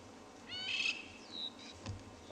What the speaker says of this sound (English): the very squawky calls of Birchall starlings and crowned lapwings, which you'll be able to hear in the background